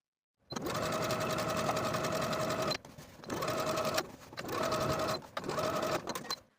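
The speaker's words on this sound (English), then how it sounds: "Once you've sewn your initial set of stitches, sew another set of stitches directly on top of the original stitch." A sewing machine runs steadily while backstitching a seam on a summer romper, a continuous close mechanical whir broken by three short pauses between runs.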